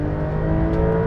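A rear-engined Porsche 911 revs hard and launches off the line in a drag race against a BMW M3, a loud, steady rising roar filling the whole moment with no voices.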